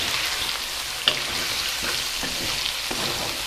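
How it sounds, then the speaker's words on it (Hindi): Chicken pieces frying in a karahi over village-style heat, a steady dense sizzle and crackle with occasional sharper pops and stirring scrapes, close and continuous throughout with no talking. "चिकन को फ्राई होते तकरीबन 5 से 6 मिनट हो गए"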